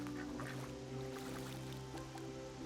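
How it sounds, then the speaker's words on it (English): Ducks quack in a flowing tufa wetland in Croatia, their calls faint and scattered over a steady low hum of water, with no voices present. "Not surprisingly, ducks inhabit the terrain."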